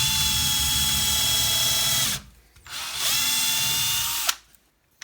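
A Parkside PBSA 12 C2 12V cordless drill bores a hole with a steady high whine, runs for about two seconds, stops, runs again, then halts with a sharp click, heard up close.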